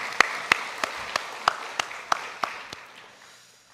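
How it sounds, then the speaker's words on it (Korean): A church congregation claps in unison during a Sunday afternoon worship service, about ten sharp, evenly spaced claps over a soft room hiss that fades out toward the end. "하나님께 영광의 박수 올리겠습니다"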